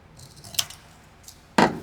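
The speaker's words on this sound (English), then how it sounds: "Trim the fold off." Scissors trim the fold off a folded thank-you card, with a few short, crisp snips heard close and alone, the last cut the loudest.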